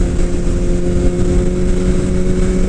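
A 2018 BMW S1000RR sportbike with an Akrapovic exhaust idles loud and close, a steady deep engine drone with a strong harmonic hum and no rev changes.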